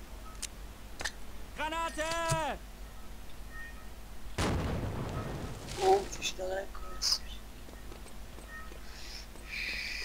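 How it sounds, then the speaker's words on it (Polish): A single booming grenade explosion in Wolfenstein: Enemy Territory bursts out midway, following quieter game sounds and a brief chirpy warble. "Czekaj, ja rzucę granat."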